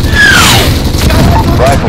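A flashbang grenade goes off in Call of Duty: Modern Warfare during an embassy assault, a loud booming blast under shouted voices and radio chatter, with a descending whine trailing away.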